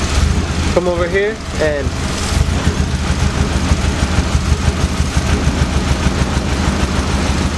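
A Nissan S14 engine idling, a deep steady rumble with a faint rhythmic pulse heard close by, while someone talks briefly over it at the start.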